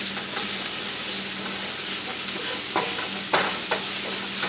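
Lots of garlic sizzles in a pan over low heat, a steady soft frying crackle with a few sharper stirring scrapes and pops, close and without any voices.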